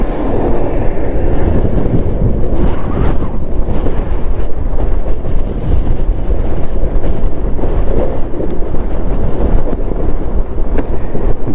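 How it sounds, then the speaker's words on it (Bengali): Strong wind gusting beside the Kali Gandaki river in Nepal's Mustang region, a constant loud roar buffeting the microphone for the whole stretch with no letup. "বিশাল হাওয়া দিচ্ছে, বিশাল।"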